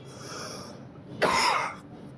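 A single harsh cough from a dry, sore throat, one sharp burst lasting about half a second after a quiet stretch of breathy room noise, close to the microphone.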